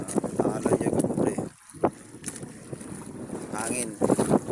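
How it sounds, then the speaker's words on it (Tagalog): Strong wind gusting over rough, choppy water on a boat outing in the afternoon, buffeting the microphone in a steady loud roar with a brief lull, while people talk over it. "Hangin."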